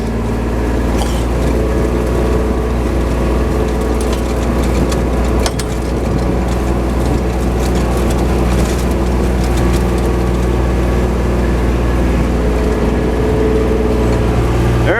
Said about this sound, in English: You can hear the tractor now running down in the barn